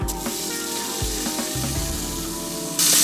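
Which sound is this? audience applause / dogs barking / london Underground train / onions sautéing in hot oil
onions sautéing in hot oil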